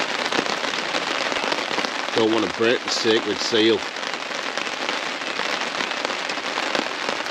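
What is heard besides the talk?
rain falling on woodland camp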